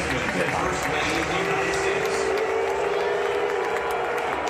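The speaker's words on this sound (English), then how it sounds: "there was some booing, which really breaks my heart" A baseball game crowd boos loudly and chants "lock him up", a dense, steady roar of many voices filling the whole stretch with a sustained tone rising out of it midway.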